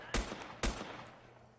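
Two sharp gunshots in a survival video game, spaced about half a second apart, each loud and close with a short decaying tail, heard alone without talk.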